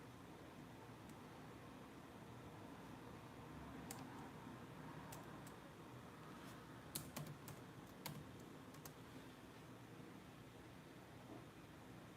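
Steady typing on a computer keyboard, a continuous run of light clicks with a few sharper key hits, close and alone with no talking over a soft background hiss.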